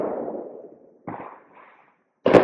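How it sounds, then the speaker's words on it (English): Fourth of July fireworks going off nearby give a few scattered bangs and crackles, one fading pop, another burst, and a sharp loud report at the end, with no voices in between. "These fireworks have been going on for like, it's been an hour."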